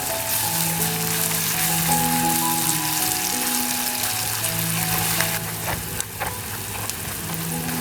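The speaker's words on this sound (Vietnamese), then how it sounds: "cho nốt số hành tỏi băm vào phi thơm" Steady oil sizzle and crackle of minced garlic and shallots frying, continuous and fairly loud close by, with a few sharper pops and faint clinks.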